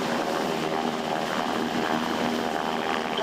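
A helicopter hovers overhead during a special operations extraction demonstration over a barge in Tampa, Florida, its rotor and engine making a loud, continuous, steady wash of noise with no letup.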